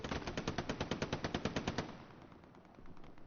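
Rapid, evenly spaced bursts of .30 cal machine gun fire in a competitive multiplayer war game, loud and close for about two seconds, then fading into a low rumbling battle ambience.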